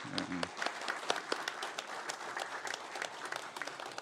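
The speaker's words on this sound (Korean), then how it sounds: "다시 한번 감사와 격려의 박수 할까요" Church congregation at a Sunday service claps for the choir, a quiet, fairly brief patter of many hands with scattered sharp claps, heard at a distance.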